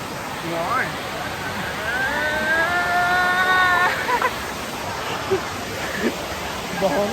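Savatkada Waterfall roars continuously with loud rushing water close by, while people talk over it and a voice rises in a drawn-out, sung or shouted tone partway through.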